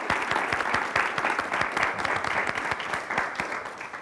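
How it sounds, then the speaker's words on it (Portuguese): An audience applauds after a talk: dense, steady clapping from many hands holds at an even level for about four seconds without a break. "Acho que merece uma salva de palmas."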